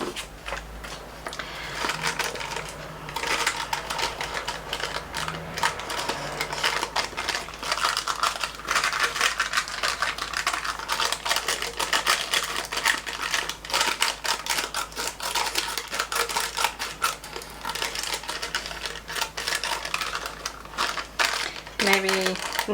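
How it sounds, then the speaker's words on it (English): Scissors snip through paper for a window-envelope junk journal in a rapid run of close, crisp cuts that continue steadily with brief pauses, over a faint background hum. "let's cut this bit out"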